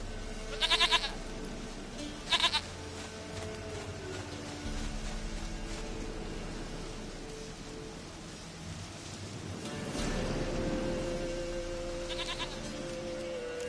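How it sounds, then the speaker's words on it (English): Two short goat bleats ring out early in The Witcher 3 over steady rain on the ground, followed by a quieter third bleat near the end, with no talking. "Goat of mine, dearest, sweetest goat."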